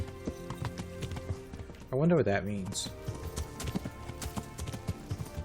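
Horse hooves clip-clop steadily in the medieval game Kingdom Come Deliverance, with a brief whinny partway through and someone talking over the hoofbeats.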